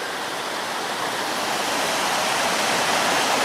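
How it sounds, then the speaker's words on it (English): A river cascades over rock in a creek, a steady loud rushing roar of water that fills the whole moment without a break. "a cascading river over rock like this"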